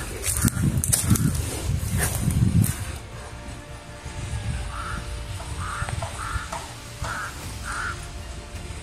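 Several crows caw outdoors, a string of short, moderately distant calls in the second half after rustling and movement noise at the start, with no speech.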